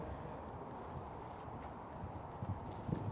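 Racehorses' hooves clip-clop steadily on the ground during a schooling session at a racing stable, a soft continuous patter with a few sharper, closer strikes near the end.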